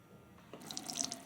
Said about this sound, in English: Running water down the drain from there.